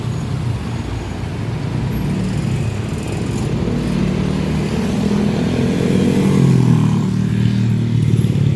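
Dense road traffic crawls near Guadalupe Bridge during a Sunday bridge reblocking, a steady close-up rumble of engines with louder vehicles swelling past now and then, no voices.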